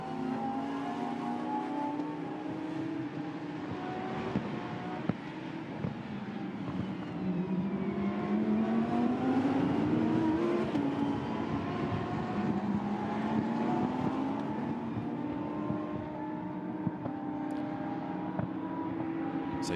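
Lamborghini Super Trofeo race cars scream through a turn sequence at the Nürburgring, engine pitch sweeping up and down steadily as they pass, a continuous loud roar with no voices.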